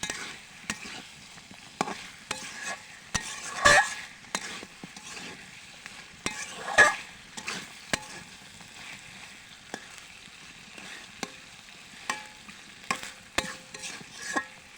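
Chicken pieces seasoned with coriander powder, salt and chilli are stir-fried in spice masala, a low sizzle under sharp, irregular clacks and scrapes of a spatula against the pan, close and without voices.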